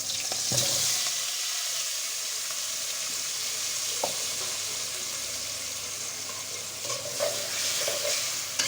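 Snakehead fish sizzles in a pan with green chilli and onion, a continuous loud frying hiss with a few clinks and stirring scrapes, and no talking.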